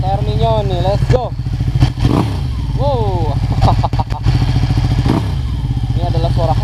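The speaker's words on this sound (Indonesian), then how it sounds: "Ini adalah suara khas Ducati ya." A Ducati Panigale 1199S with a Termignoni exhaust blips its engine in a series of sharp, loud revs rising and falling, close by, with someone speaking briefly between the bursts.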